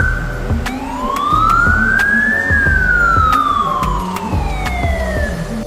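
Emergency warning tone from a Code 3 12+ Pro Series light bar with built-in speaker: one loud, close electronic wail that sweeps steadily upward, then glides slowly back down.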